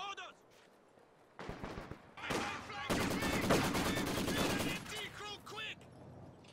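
Maxim machine gun fire in the Company of Heroes 2 strategy game, sustained rattling bursts mixed with other battlefield gunfire, loud and dense in the middle and tapering off, with game voice lines over it.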